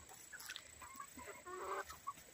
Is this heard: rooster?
yes